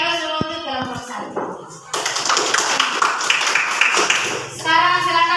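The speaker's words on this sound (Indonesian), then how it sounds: "Ayo untuk kita beri aplaus dulu untuk kelompok 1." A classroom group breaks into a short round of applause for the first presenting group, lasting about three seconds between spoken remarks from a teacher.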